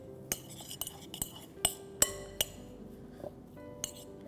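Boiled grated potatoes and grated paneer are stirred together in a mixing bowl, producing a string of sharp clinks and taps of utensil against bowl, irregular and close, with no voice over them.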